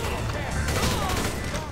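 Rapid bursts of AK rifle fire in GTA V crackle in a dense, noisy mix, with booming echoes and game sounds layered underneath.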